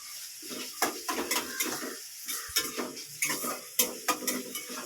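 Tomatoes and onions are stirred in a pan, with a spoon scraping and clinking against the metal in irregular strokes over a soft frying sizzle, close and moderately loud.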